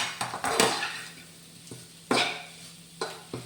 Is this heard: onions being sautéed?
yes